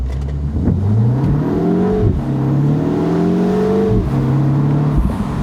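A 2025 Mini Cooper JCW accelerating hard, with its engine revving up in rising sweeps, pausing at gear shifts, then climbing again. The sound is loud and close from inside the car, with no talking.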